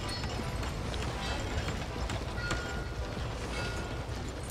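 Horse hooves clip-clop steadily in Red Dead Redemption II as a horse is led to be hitched at a saloon, the even hoofbeats sounding under game ambience with no talking.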